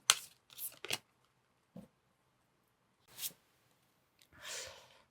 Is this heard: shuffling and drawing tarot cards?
yes